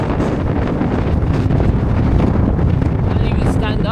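Strong gusty wind on a high mountain ridge in Patagonia roars continuously and buffets the microphone, a loud broadband rush with no letup.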